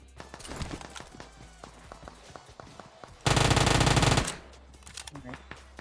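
Gunfire in Battlegrounds Mobile India sounds as rapid single shots and footsteps, then a loud sustained burst of automatic fire for about a second, followed by more scattered shots.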